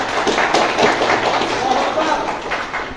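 An audience at an Islamic sermon bursts into steady clapping, a dense mass of hands sustained for a few seconds with voices mixed in.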